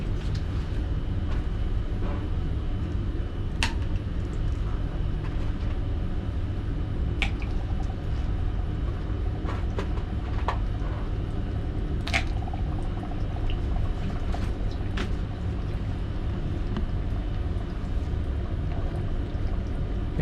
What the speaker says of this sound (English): The frozen solid CO2 is subliming, so it's just releasing CO2 into the water.